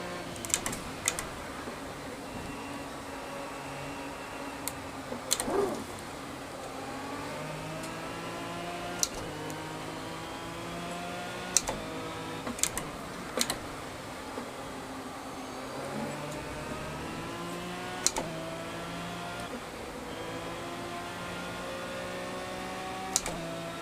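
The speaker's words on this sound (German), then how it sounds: "Ich kann aber auch das Auto ein bisschen höher drehen." Racing car engine from Project Cars at Spa revs up and down through repeated gear changes, a steady mid-loud whine rising in pitch, with keyboard-like clicks and taps scattered over it.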